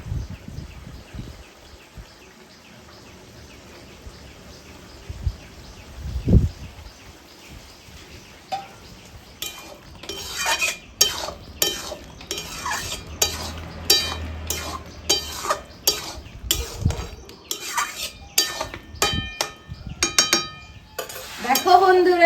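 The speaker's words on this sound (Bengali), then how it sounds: "দিয়ে আমি যে চালটাকে বেটে নিয়েছি সেটাকে দিয়ে নেড়ে চেড়ে নামিয়ে দেব" A spoon scrapes and clinks against a pan while ash gourd curry with ground rice is stirred, irregular metallic taps and scrapes, close and fairly loud, with faint background noise.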